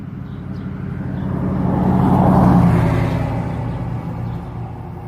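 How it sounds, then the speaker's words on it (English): Steady road traffic rumble from passing vehicles, swelling as a car draws near and fades again, loud and continuous with no talking. "Apologize for the road noise."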